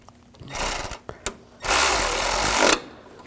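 A power tool tightens bolts on the intake manifold of a 2007-2013 BMW 328i 3.0L inline-six, heard as a short whirring burst with a few clicks, then a longer steady loud run that stops abruptly.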